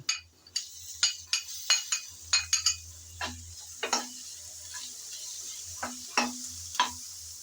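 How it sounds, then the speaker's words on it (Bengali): Teasel gourd chop filling stirred and fried in a pan: repeated sharp scraping strokes of a spatula against the pan in an irregular rhythm, with a soft sizzle underneath and a low hum in the background. "নেড়ে চেড়ে কিছুক্ষণ আমি ভেজে নিলাম"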